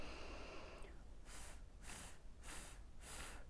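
Rhythmic hissing breaths from a voice relaxation exercise, sustained airy exhalations pushed out in four evenly spaced bursts, close to the microphone, with no speech.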